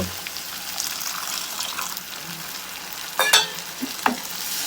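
Ginger, garlic and cumin paste fries steadily in a hot pan, and a splash of water added near the end triggers two sharp, loud bursts of sizzling over the continuous crackle.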